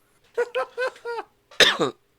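A man coughs in a quick series of four harsh, close hacks, then a brief pause and two more louder, rougher coughs.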